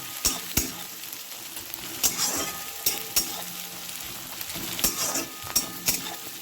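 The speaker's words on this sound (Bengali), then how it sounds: "আর দিলাম কাঁচা লঙ্কা কুচানো। ভালো করে মশলাটাকে ভাজতে থাকবো।" A spice paste with chopped green chilli, ginger and potato fries in a pan, a soft steady sizzle broken by sharp scraping and clinking strokes of a spoon stirring against the metal at irregular intervals.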